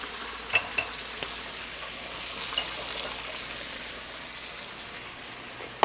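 Pork chops fry in oil with fresh rosemary and thyme over a lowered flame, giving a soft, even sizzle with a few sharp pops and clicks near the start and end.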